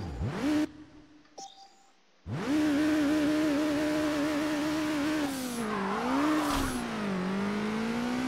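Racing cars from the video game Burnout 3 Takedown roar at high speed, with a loud, steady engine whine that rises and dips with gear changes, broken early by a brief near-silent gap before the sustained drone returns.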